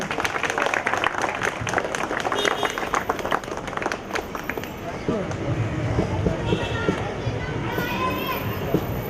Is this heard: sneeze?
no